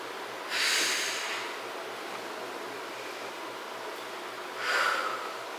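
Breathing during a pilates ball exercise: two slow, breathy exhales several seconds apart, close and clear over a steady low hiss.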